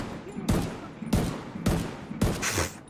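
Gunfire in Tom Clancy's The Division 2, with four sharp, loud shots or short bursts spaced about half a second apart, close by, over a low background.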